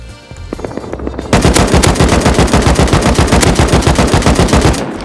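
Automatic AK rifle fire in the survival game Rust: a long, loud, rapid burst of evenly spaced shots starting after a brief quieter lead-in, continuing almost to the end, with no talking.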